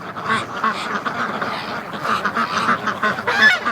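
Several ducks quack in quick, overlapping bursts, near and moderately loud, with goose-like honks mixed in around a winter farm pen.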